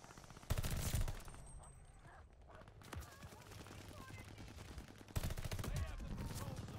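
Rapid bursts of gunfire from a shotgun and other weapons in the Call of Duty Vanguard shooter game, loud volleys at the start and end with a quieter stretch between, under a player's voice.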